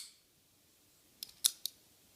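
A Benchmade 531 Pardue folding knife is flicked open one-handed, giving a quick run of three faint metallic clicks close by in a quiet room.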